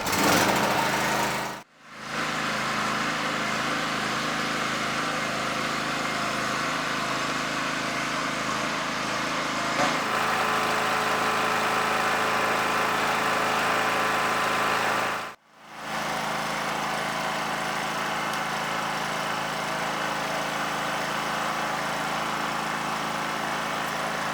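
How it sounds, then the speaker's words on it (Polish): A Kraft&Dele KD-143 petrol power generator runs with a steady, loud small-engine drone, dropping out abruptly twice for a moment before resuming at the same even pitch, with a slight change in tone partway through. "kluczykiem uruchamiamy silnik"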